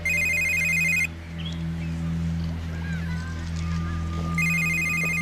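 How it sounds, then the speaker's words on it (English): A telephone rings in repeated electronic trilling bursts, one at the start and another near the end, over a steady low hum with quiet background activity between. "Dude, your phone, you gonna get that?"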